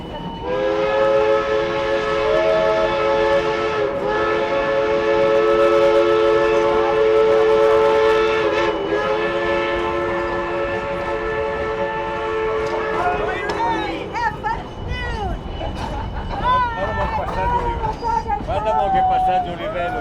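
The Durango & Silverton narrow gauge steam train pulls out of the station with a long, loud, steady whistle blast and shorter blasts. Rumbling wheels and chugging follow, with people talking nearby.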